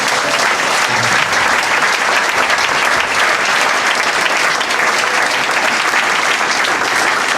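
A church congregation bursts into steady, dense applause, loud and continuous throughout, with many hands clapping together and no voices standing out.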